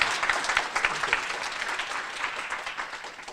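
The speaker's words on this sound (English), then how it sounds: "if you could join me in a round of applause for Dr." A conference audience at a Stanford Asian health research event claps for a speaker, with many hands in sustained, fairly even applause that swells slightly at the start and holds steady, moderately loud and without voices.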